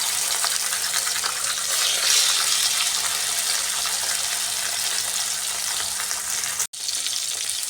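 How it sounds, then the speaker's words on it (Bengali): Steady, dense sizzling of rohu fish coated in salt and turmeric frying in hot oil, close and continuous, with a brief dropout near the end. "লবণ হলুদ দিয়ে মাখা মাছগুলো ভেজে নিচ্ছি"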